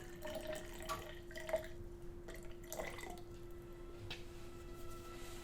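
Water being measured to 170 milliliters and poured for mixing lost wax casting investment, faint drips and small splashes over a steady low hum in a quiet workshop.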